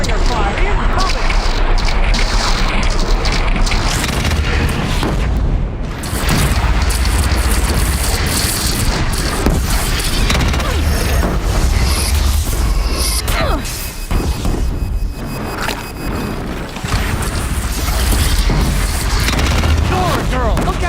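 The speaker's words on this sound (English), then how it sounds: "Stormbird! Stormbird! Deathbringer fire incoming!" Heavy gunfire and booming explosions from a Stormbird's Deathbringer gun fill a fight in the Horizon Zero Dawn video game, a dense, continuous barrage of blasts and crashes lasting throughout, with voices shouting over it.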